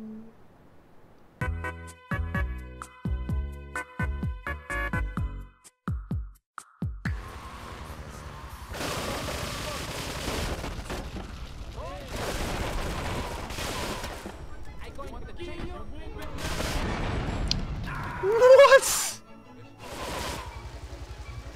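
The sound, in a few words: gunfire from enemy shooting in video game GTA III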